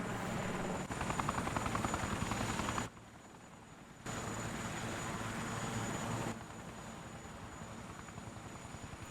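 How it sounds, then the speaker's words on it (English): A helicopter in the video game Yakuza 4 roars steadily with a dense, continuous rotor and engine drone, loud and close throughout, briefly dipping quieter in the middle before surging back. "There's Date in the chopper."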